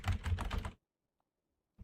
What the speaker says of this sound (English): Don't listen to me typing.